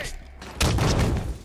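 A grenade blast in Halo 5: Guardians online multiplayer lands as a sudden loud boom that rolls into sustained rumbling debris, breaking over quieter game sounds, with voices talking around it.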